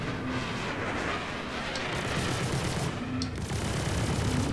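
Spaceship weapons in Star Citizen, fired from a Raptor X in ship-to-ship combat, let loose a steady, dense barrage of rapid shots that carries through the whole stretch at an even, loud level.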